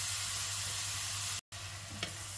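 Minced meat for a pasta bolognese sauce frying in a pan, a steady close sizzle with a brief dropout and a small stir-like scrape near the end.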